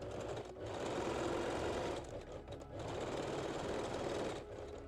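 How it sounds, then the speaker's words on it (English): Domestic sewing machine running a long straight stitch along the side seams of a handmade bikini top, a steady close whirring hum in two sustained runs separated by a brief pause. "Now I use a long straight stitch and stitch the side seams."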